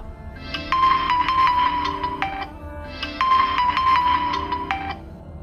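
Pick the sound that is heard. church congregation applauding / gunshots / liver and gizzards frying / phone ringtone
phone ringtone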